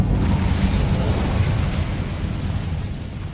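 A fiery spell blast in Mortal Kombat 1 roars out as a broad, sustained whoosh and rumble, loud and steady throughout before easing slightly at the end, with no talk over it.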